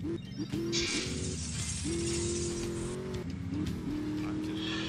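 A fast Deluxe car races in GTA Vice City, its engine droning loud and continuous with rising pitch sweeps as it shifts gears, plus brief tire squeals.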